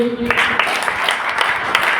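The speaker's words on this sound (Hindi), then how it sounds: "मिस्टर अमित कुमार गढ़ी सर के लिए जोरदार ताली बजाइए" Audience applause swells at a business event closing after a call to clap for the guest, a dense crackle of many hands with a host's voice speaking over it.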